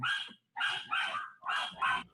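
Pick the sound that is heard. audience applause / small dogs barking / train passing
small dogs barking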